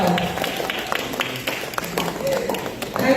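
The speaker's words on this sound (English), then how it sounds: "Please clap for yourself." Audience at an environmental conference panel discussion clapping steadily for about three seconds, a dense patter of hand claps filling the room, with voices talking over and through the applause.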